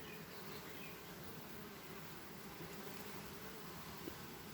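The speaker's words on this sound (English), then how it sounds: "Look at the orientating flights on this hive" Honeybees making orientation flights in front of a hive, heard as a steady, dense, fairly faint buzzing hum with no breaks and no talking.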